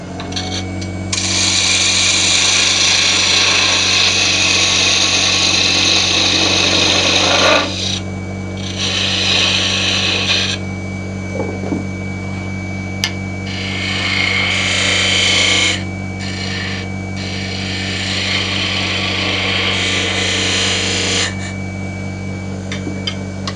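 A wood lathe turns a small wooden pill toy while a tool cuts and sands it, giving a continuous close raspy scraping over a steady motor hum, with bursts of contact separated by brief lighter pauses.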